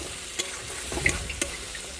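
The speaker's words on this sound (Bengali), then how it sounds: "মশলাটা কষানো হচ্ছে" Spice paste of turmeric, chili powder and ginger-garlic paste is sautéed in a pan for biryani, giving a soft, steady sizzle with a few sharp clicks of a stirring utensil.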